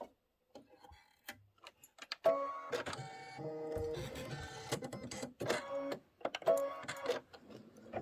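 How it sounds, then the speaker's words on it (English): A sewing machine stitches a quilt block in fast mechanical bursts, starting and stopping with rapid ticking between runs. "this should be 5 minutes of stitching"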